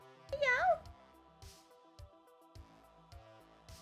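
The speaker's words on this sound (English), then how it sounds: "We get annoyed by the cat." A cat meows once, close and fairly loud, followed by a series of soft rhythmic thumps or taps against a low steady background hum.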